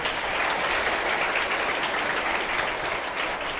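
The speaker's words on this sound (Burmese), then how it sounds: "ကောင်းလိုက်တာကွာလက်ခုပ်တီးအားပေးဟေး" An audience applauds at a Buddhist monk's talk on freedom and discipline: a dense, steady wash of clapping that holds at an even loudness throughout, with no voices over it.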